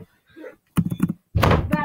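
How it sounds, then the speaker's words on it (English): A door is pushed shut indoors during a home computer-game session, giving one solid thunk with a short broadband burst, after some brief nearby talking. "Can you go close the door really quick?"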